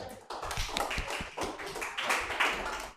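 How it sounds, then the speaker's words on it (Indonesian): A classroom of students claps for a student group, giving dense, lively applause close by that holds steady for about three seconds before tapering off at the end. "tepuk tangan dulu buat kelompok 1"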